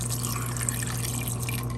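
Water poured into a pot of sautéed vegetables and cooked white beans with dry spices, a short steady splashing pour with a faint trickling texture, close and continuous.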